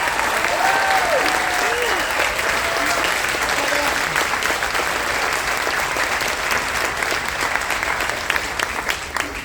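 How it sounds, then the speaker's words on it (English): Sustained, dense applause from a large audience fills a cruise ship venue during a military appreciation event, steady and loud throughout with faint whistles and voices mixed in. "Give them a round of applause."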